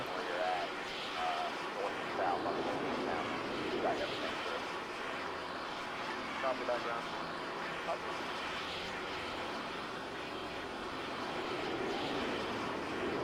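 A military aircraft's engine in the Arma 3 game roars at full throttle, a dense, steady broadband drone that holds evenly throughout, with someone talking over it now and then.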